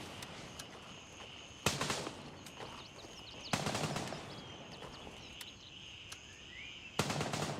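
Distant gunfire in the tactical shooter Gray Zone Warfare, with three short, loud bursts of automatic fire separated by quieter stretches of ambient outdoor sound and a few faint isolated shots.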